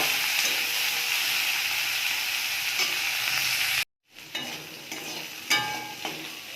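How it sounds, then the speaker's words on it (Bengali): Bitter gourd and onion being stirred and fried in a pan with dried chillies, a steady broadband sizzle with scraping stir strokes, a brief silence midway, then sizzling resumes with sharper utensil scrapes. "উচ্ছেটা ভাজা ভাজা হয়ে গেছে হাফ।"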